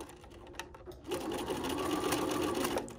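A sewing machine stitching in reverse for a backstitch while making a fabric storage box, a steady close motor whir with needle chatter that starts after a quieter moment and runs evenly to the end.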